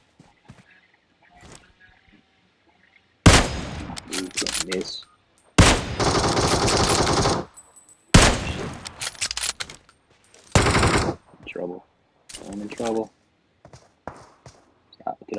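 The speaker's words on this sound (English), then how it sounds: "Somebody shot at me and I don't see them." Gunfire in the video game PUBG Mobile on the Erangel map comes as repeated loud automatic bursts, some long and sustained, others short, with gaps of quieter game sound between them.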